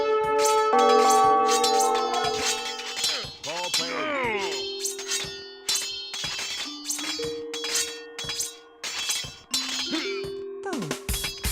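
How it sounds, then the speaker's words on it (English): A town bell in the strategy game Age of Empires II rings repeatedly with sharp metallic clangs and sustained tones, mixed with other clinks and chimes of the game's sound effects. "To protect your villagers, you can use the town bell to garrison them in your town center."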